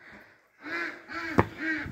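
Farmyard ducks giving a few nasal quacks after a brief hush, three close calls with a sharp knock or clack between the second and third.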